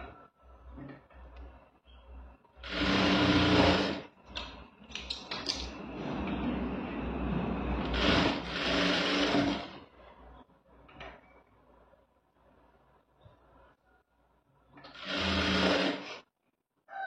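Sewing machine stitching a blouse in short bursts of whirring, close mechanical running that starts and stops several times with quieter handling noises between runs.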